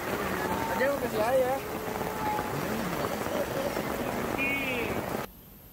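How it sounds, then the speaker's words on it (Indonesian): Heavy rain pours steadily on a campsite at night, a dense continuous wash of noise with voices talking over it, then cutting off abruptly near the end. "Hujan deras berlangsung cukup lama."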